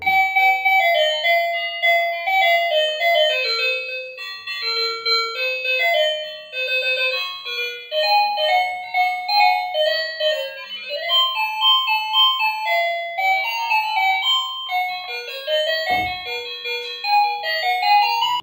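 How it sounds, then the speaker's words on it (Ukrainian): Cheerful electronic jingle melodies from the buttons of a children's toy kitchen range hood, playing continuously and bright with bell-like tones, close and steady with no talking. "Ці кнопки запускають веселі мелодії."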